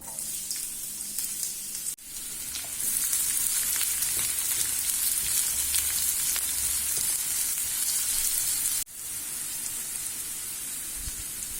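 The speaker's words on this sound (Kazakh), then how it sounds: "Қазір пиязымызды турап, жаңағы 50 грамм майымызға пиязымызды қуырып аламыз" Onions fry in about 50 grams of oil, giving a continuous crackling sizzle with no voices. Two brief dips break the sound, where the pan is stirred or the sound cuts.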